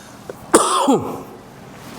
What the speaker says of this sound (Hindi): ज़्यादा जोर से बोलता हूँ ना तो खांसी आ रही है